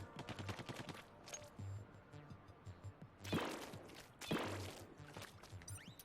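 Rapid bursts of ink-gun fire in a Splatoon boss fight against the Octonozzle, quick repeated shots followed by two louder splashing bursts, quiet and alone with no talking.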